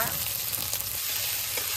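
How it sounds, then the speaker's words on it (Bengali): Spices fry in hot oil with a steady, busy sizzle and crackle, loud and close, occasionally stirred: garam masala, onion, green chilli, crushed garlic, ginger and cumin paste. "সবকিছু ভালোভাবে ভেজে নই।"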